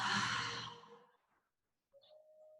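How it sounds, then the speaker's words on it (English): During yoga breathing, one long, breathy open-mouth exhale sounds close and soft and trails away into silence, and a faint tone follows. "Last deep cleansing breath, fill up as big as you can. Open mouth, exhale."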